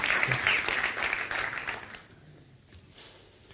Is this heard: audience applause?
yes